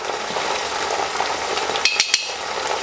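Sliced tomatoes fry with turmeric and roasted crushed cumin in a pan, a dense close sizzle punctuated near the end by a few sharp metallic spoon clinks.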